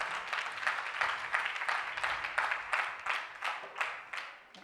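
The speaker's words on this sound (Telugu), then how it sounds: "మరి గట్టిగా ఒకసారి చప్పట్లు కొడదామా?" A church congregation claps together at a Baptist church anniversary celebration, a steady rhythmic applause from many hands, moderately loud and heard alone.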